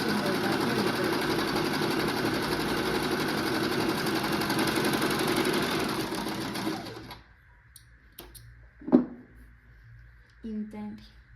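Singer 1304 electric sewing machine stitching with a fast steady whirring rattle for about seven seconds, then stopping, leaving a faint hum and a few handling clicks and knocks.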